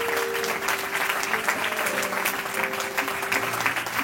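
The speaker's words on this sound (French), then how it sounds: "Le Seigneur, on acclame le Seigneur." A church congregation applauds, a dense, loud, steady clapping from a crowd that fills the whole moment, with a faint tonal sound underneath.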